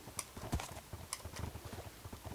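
Horse hooves clip-clopping in Minecraft, a quick uneven run of soft clicks and thuds, faint and close, with a few sharper taps among them.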